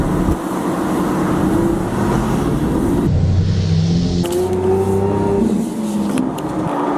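A Lamborghini engine revs in Corsa mode, with a loud, steady roar that shifts pitch as the revs rise and drop again partway through, heard alone without talk.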